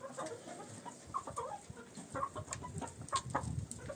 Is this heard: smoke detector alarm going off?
no